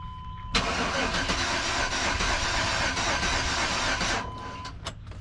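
An old parts truck engine cranks over steadily in a driveway, a dense continuous churning starter-and-engine rumble that starts abruptly, holds loud for about four seconds, then cuts off.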